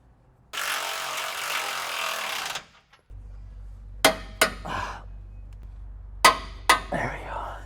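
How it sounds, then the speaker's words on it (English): An impact wrench drives a front suspension part into a Ram 2500 truck during a 3-inch lift install, one loud rattling burst of about two seconds followed by a low steady hum and several sharp metallic knocks. "All right, we're just gonna impact it in."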